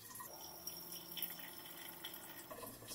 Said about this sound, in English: Let's get some boiling water in this jug now.